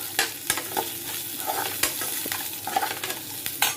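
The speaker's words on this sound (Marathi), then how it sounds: "आता आपण मसाला भाजून घेऊया सगळा" A masala of roasted coconut, coriander, green chilies, ginger and garlic sizzles in a hot pan. Close, repeated scrapes and knocks of a stirring spoon sound over a constant frying hiss.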